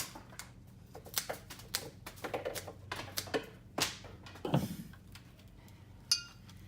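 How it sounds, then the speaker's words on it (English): Sharp snips and clicks of flower stems being cut for a hand-tied Valentine's bouquet, irregular and close, fairly quiet with small clinks between cuts. "Let's cut off those stems."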